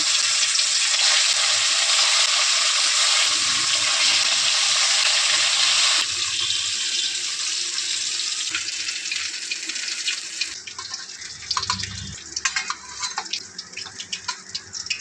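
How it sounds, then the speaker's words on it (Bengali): Katla fish pieces coated in turmeric and salt fry in oil with a loud, dense sizzling crackle that drops back partway, then turns sparser and pops more as the frying settles, with no talking. "মাছগুলো ভেজে নেব।"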